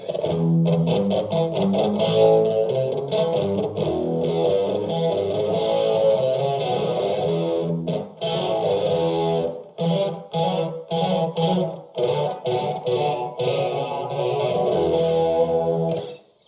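An electric guitar plays a chord riff through Rockman modules, with a shimmering chorus effect, strummed rhythmically with short stops between phrases.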